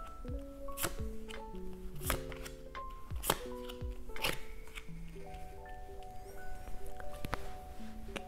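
Tarot cards shuffled and drawn on a table, giving soft repeated slaps and flicks at an uneven rhythm over gentle melodic background music.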